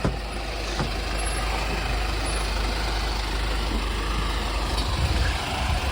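Truck engine rumbling steadily throughout, a loud, close, low drone from a tow truck carrying a broken-down car, with no talking.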